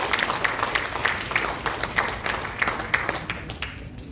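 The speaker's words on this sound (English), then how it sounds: "So let's give them a round of applause." A room of people at a community meeting applauds the maintenance committee, steady dense clapping that holds for a few seconds before thinning out at the end.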